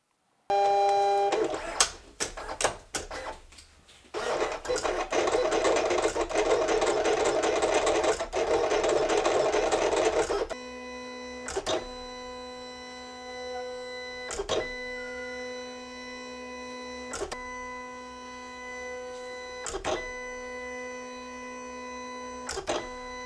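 A vinyl cutter slicing glossy vinyl masking strips for diecast model car painting: a buzzy motor whir with clicks and carriage moves, then a steady humming tone broken by regular sharp ticks as the blade tracks, close and alone.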